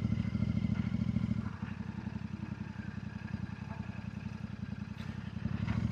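A motorcycle engine idles and putters in a steady, throbbing rhythm through summer traffic in the seaside resort of Palanga, Lithuania, fairly close and continuous, with a brief dip in loudness partway through and no talking.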